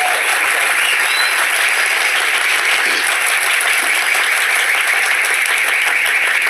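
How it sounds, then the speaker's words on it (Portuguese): A studio audience on a Brazilian show gives a steady, loud round of applause, a continuous wash of clapping that holds evenly from start to finish with no voices on top. "eu quero que eles ouçam uma salva de palmas de vocês aqui"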